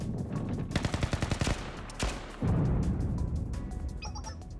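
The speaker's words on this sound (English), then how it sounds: "the sound of gunfire and explosion means the fighting has broken out" Rapid bursts of automatic gunfire in the video game Blue Archive, a dense staccato rattle followed by a heavy blast and continued rumbling noise, with no talk.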